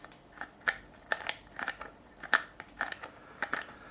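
Potentiometers on a 1983 Burny Les Paul Custom guitar clicking as they are turned, with about nine sharp, crisp clicks arriving in small irregular clusters. They sound close and fairly quiet, with no one talking.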